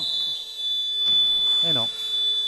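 An electronic basketball buzzer sounds at the end of the half in an amateur gym game in Montauban-de-Bretagne: a steady, piercing high tone holding for the whole moment while a commentator's voice comes in over it.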